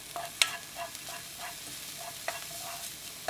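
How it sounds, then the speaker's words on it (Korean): Minced garlic and green onion stir-fry in a spoonful of cooking oil over high heat, a soft sizzle with a few sharp clicks of a utensil scraping the pan, quiet and close. "식용유 한 스푼, 다진 마늘 파 넣고 센 불로 1분 볶아주세요"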